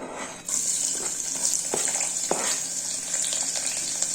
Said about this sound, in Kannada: ಇವಾಗ ಈರುಳ್ಳಿ ಹಾಕ್ತಾಯಿದ್ದೀನಿ ಒಗ್ಗರಣೆಗೆ